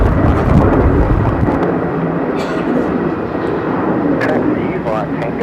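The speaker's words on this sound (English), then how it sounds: "Current departure though, Qantas 428 heading to Sydney" A Qantas airliner departs Melbourne Airport bound for Sydney, a loud, heavy jet roar rumbling steadily through the clip, with faint radio voices underneath.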